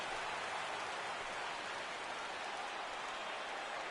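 Rain falling during a baseball video game, an even hiss of steady downpour, soft and continuous throughout with no voices.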